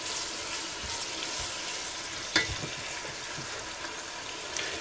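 Chopped onion and carrot sauté in a pan with a steady soft sizzle, fairly close, broken by a brief clatter of stirring partway through and no talk.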